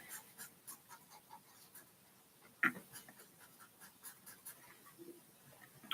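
Pen scratching across paper while a drawing is coloured in, a faint, steady run of short scratchy strokes with a single sharper tap partway through.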